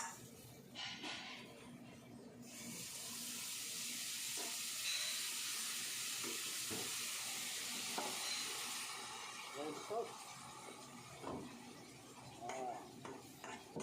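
Butter and a spoonful of red sauce sizzle in a pan over low heat with a steady hiss, broken by scraping stirs and occasional clinks of a utensil against the pan.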